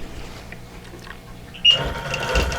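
A sewing machine quilts straight lines on a vintage quilt block, faint mechanical ticking at first, then louder, busier stitching that starts abruptly and keeps running close by.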